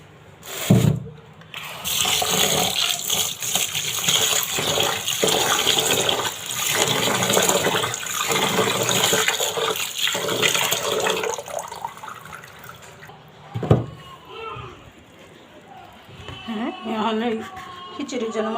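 Running tap water splashes steadily as ingredients for bhuna khichuri are rinsed in a kitchen, a continuous rushing wash broken by a few knocks and a short quieter stretch near the end.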